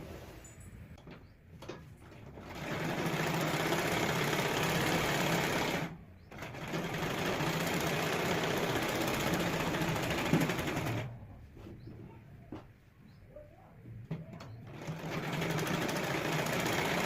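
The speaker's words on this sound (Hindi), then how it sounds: "अब मैं इस पर एक सिलाई डाल दूंगी।" A sewing machine stitches a seam on a half-net blouse collar, running steadily in long loud bursts with brief pauses between runs.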